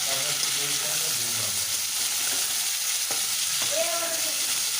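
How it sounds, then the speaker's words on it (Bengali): Chopped potatoes frying in hot oil with onions in a pan, a steady loud sizzle and crackle throughout, with occasional stirring scrapes. "এখন আমি কিছু কেটে রাখা আলু কুচি এর মধ্যে দিয়ে দেবো"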